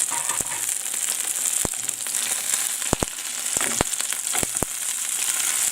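Turkey pieces fry in a pan for a Bun Cha dish, giving a steady close hiss of sizzling oil broken by several sharp pops and crackles.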